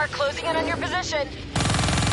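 Heavy gunfire erupts in a video game battle on PS4, a dense, rapid burst of shots that comes in after a voice talking over background battle noise.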